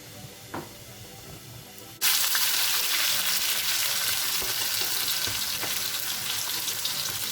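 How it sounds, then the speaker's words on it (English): Mustard seeds hit hot oil in a pan, bursting into a loud, steady sizzle and hiss after a quiet start with a faint clink, continuing strongly to the end. "Now my oil is hot. I am going to add some mustard seeds."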